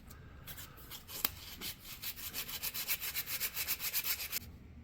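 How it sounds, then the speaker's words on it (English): Hand sanding with 150 grit sandpaper on a steel knife cut from a saw blade gives a quick run of rhythmic rasping strokes, close and quiet, speeding into even back-and-forth rubs before stopping. "I'm just going to continue on with 150 grit"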